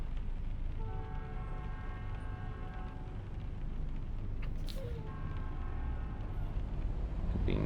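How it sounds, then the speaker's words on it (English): A train somewhere near a highway in Louisiana in American Truck Simulator sounds its horn in two sustained blasts over the constant low rumble of the truck's engine and road noise. "I hear a train."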